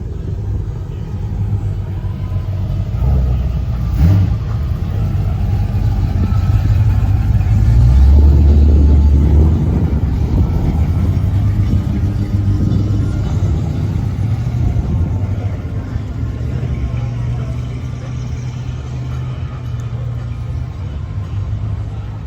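A Checker Marathon airport limousine drives past at an outdoor car cruise, its engine a steady low rumble that swells briefly midway, with faint crowd noise in the background.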